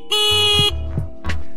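A small horn fitted to a homemade petrol-engine motor scooter gives one loud, buzzy, nasal toot, followed by a couple of short, weaker bleats.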